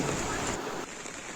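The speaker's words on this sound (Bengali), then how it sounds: "যে বৃষ্টি যে হচ্ছে" Rain falls on a village during a wet day, a soft steady patter of drops on nearby surfaces, brief and fairly quiet.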